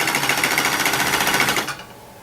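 Serger stitches through fleece blanket fabric in a fast, rapid mechanical chatter, close and loud, then stops abruptly.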